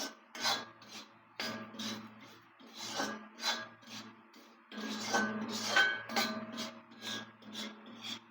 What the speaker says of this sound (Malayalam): എല്ലാം കൂടെ ചേർത്ത് നമുക്കൊന്ന് ഇളക്കാം